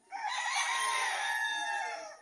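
A dense chorus of many farm chickens clucking and a rooster crowing together, close and continuous, with no talking.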